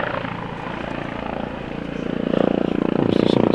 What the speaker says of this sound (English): Obviously something's going on if the police helicopter's up there.